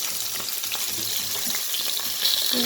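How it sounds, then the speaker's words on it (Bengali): Fish frying in a pan gives a loud, continuous close-up sizzle with faint irregular crackles and spatters throughout, and no talking. "এদিকে আমার মাছ ভাজা কমপ্লিট"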